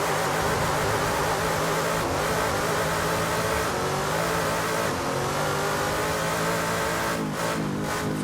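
A car engine in the Assetto Corsa racing game revs hard with turbo boost set to 80%, a loud, continuous, close-up drone that climbs and shifts in pitch throughout, with no talking.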